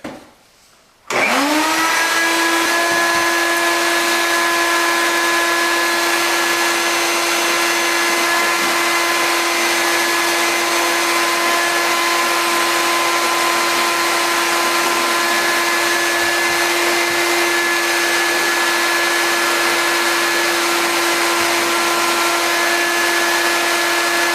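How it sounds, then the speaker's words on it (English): A vacuum cleaner switches on after a brief quiet moment and runs at a loud, steady whine for over twenty seconds while cleaning a scraped bathroom sub-floor ahead of re-tiling, with no voices. "now it's time to vacuum it"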